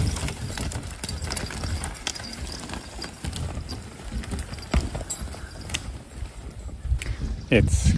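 Draft horse hooves clip-clop on a woodland trail while skidding logs, with scattered uneven thuds and clatter of harness and chains, close by, mixed with voices talking over it.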